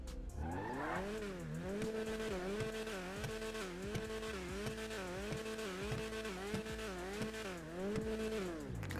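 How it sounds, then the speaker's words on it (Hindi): A modded Ferrari 599 Evoluzione engine in GTA 5 revs hard through repeated rising and falling gear changes, a loud, continuous snarl with tire squeal hints, no talk over it. "चलो अब हम इस कार का साउंड और इस कार की टॉप स्पीड को टेस्ट करते हैं।"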